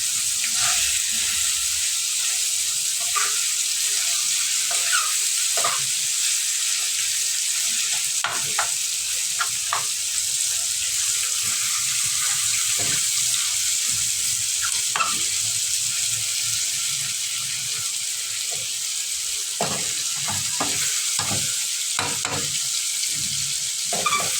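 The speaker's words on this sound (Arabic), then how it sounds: "نحط الماء كده عشان ايه البصلة بتاعتنا متستواش قبل اللحمة" Onions and meat cook in a pan after water has been poured in, giving a steady loud sizzle and steam hiss throughout with occasional stirring scrapes and faint clinks.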